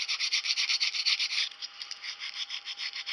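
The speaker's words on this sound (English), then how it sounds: "Get the rough part of it sanded down." Rough part of an antler being sanded by hand for a plaque-mounted display: close, rhythmic back-and-forth rasping strokes, fast and even at first, then lighter and more spaced out, with no talking.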